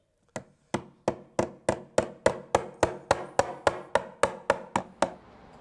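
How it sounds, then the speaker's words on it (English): A hammer strikes repeatedly on a nail driven into wood, bending it over and cutting it off, at an archaeological dig: about fifteen sharp, evenly paced knocks, close and fairly loud, with no voices. "in theory I should be able to cut it off with the sharp end of the hammer."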